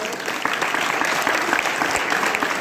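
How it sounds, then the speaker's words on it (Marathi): Dense, steady applause from a crowd fills the whole stretch, loud and unbroken, honouring the runner-up team from Bajaj Agriculture College, Wardha, at the closing ceremony of an inter-college kho-kho tournament. "एकदा जोरदार टाळ्या होऊन जाऊ द्या"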